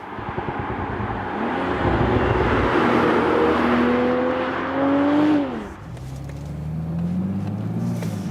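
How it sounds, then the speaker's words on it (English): A BMW Z4 M40i convertible with a 3-litre six-cylinder engine drives close by, its engine droning and rising in pitch as it accelerates, then dropping and settling into a lower cruise tone, with no talking. "the all-new Z4, the M40i with this 3-liter 6-cylinder"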